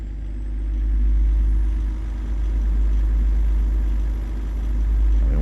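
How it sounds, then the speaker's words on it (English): Truck engine in American Truck Simulator pulling up a hill at low RPM, a steady deep droning rumble that swells and eases slightly, with no talk over it. "but you going up this hill, the RPM really doesn't drop much."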